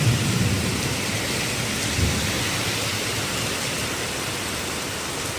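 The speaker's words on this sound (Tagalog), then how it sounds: "Lakas ng ulan eh." Heavy rain pours down during a flood at Scout Tobias and Timog Avenue, a constant loud hiss with low thunder rumbling beneath it and no talking.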